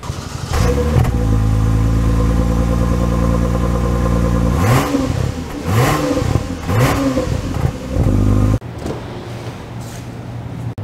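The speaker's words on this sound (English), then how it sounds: "let's get an exhaust clip going" A 2023 Toyota Camry XSE V6 idles loudly through the exhaust, then revs up several times in quick bursts before dropping back to idle.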